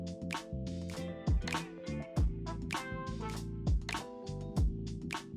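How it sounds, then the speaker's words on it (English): Down-tempo chill-step music plays without vocals at a Costa Rica resort, with deep bass drops, bright synth stabs and a steady beat, heard at moderate distance. "More down-tempo, chill step. You know, lots of songs with no lyrics"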